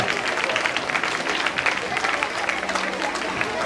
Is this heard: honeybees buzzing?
no